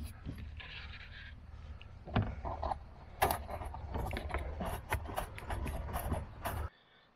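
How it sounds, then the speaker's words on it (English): A nut being tightened on a switch wired into a 12 volt system, heard as a series of close metallic clicks, scrapes and taps, busier in the second half over a low background hum. "now we're going to tighten that nut up"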